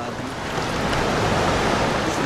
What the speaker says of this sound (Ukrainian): І плюс тут хвиля.